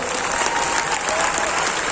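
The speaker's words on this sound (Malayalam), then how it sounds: "ഒരു ശക്തമായ കയ്യടി അദ്ദേഹത്തിന് കൊടുക്കുക" Dense, loud applause from a crowd at a stage event, continuous clapping throughout with no break.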